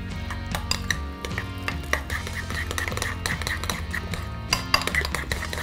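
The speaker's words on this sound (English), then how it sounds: "Quick stir, and that is it for this sauce." A spoon clinks and scrapes against a pot while a sauce with chives is given a quick stir, a run of close, irregular metallic taps and knocks over a low kitchen hum.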